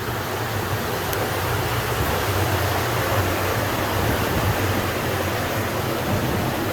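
Water rushes steadily and loudly beneath a mill in Elkhart County, Indiana, a constant roar with no pauses and no voices.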